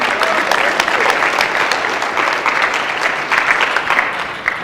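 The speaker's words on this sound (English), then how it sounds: "So give yourself a round of applause." An audience claps steadily throughout, a dense, sustained round of applause from a crowd with no talking over it.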